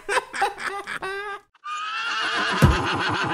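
Horse neighing in a dramatic manga dub, a loud, close whinny with a rising and falling call, then a longer, harsher neigh after a brief gap.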